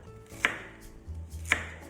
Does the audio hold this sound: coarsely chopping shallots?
yes